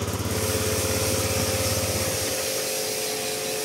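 A used 2017 motorcycle engine idles right after a hand start, a loud close putter that throbs evenly at first and then settles into a steady, rougher running drone.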